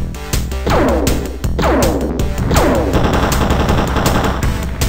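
Sustained aircraft cannon fire from X-COM: Enemy Unknown as an interceptor shoots down a UFO, with loud, dense bursts of rapid shots repeating in three waves and a constant engine hum beneath.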